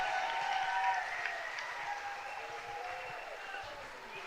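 Crowd at a night baseball game between the Toronto Maple Leafs and London Majors applauding a run-scoring hit, a steady wash of clapping and cheering that holds throughout, with a commentator's voice faintly over it.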